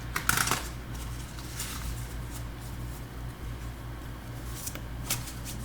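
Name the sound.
tarot cards being shuffled and drawn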